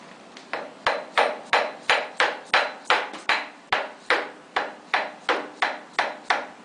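Repeated hammer taps on a lathe gearbox gear being seated during reassembly of a 13x40 Enco lathe, about fifteen sharp, evenly spaced metallic knocks, close and loud, with no talking.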